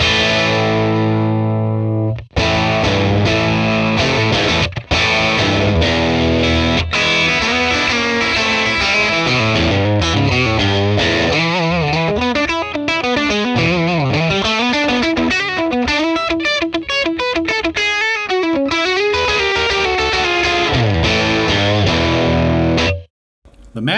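Electric guitar, apparently a Strat, through a captured 1966 Fender Blackface Bassman amp on a bright setting, playing a continuous distorted, chorus-tinged run of chords and fast lines, loud and close, ending abruptly.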